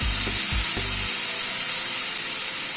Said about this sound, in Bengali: তেলটা গরম হয়ে গিয়েছে, চিকেনের লেগ পিসটা দিয়ে দিলাম